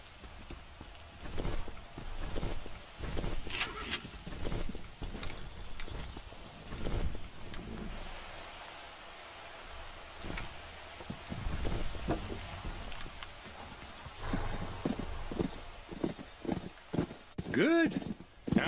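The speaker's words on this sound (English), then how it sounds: "Let's get the horses." Horse hooves clip-clop in a Call of Juarez: Bound in Blood western shooter, a steady walking patter in the middle distance beneath frequent talking voices and game ambience.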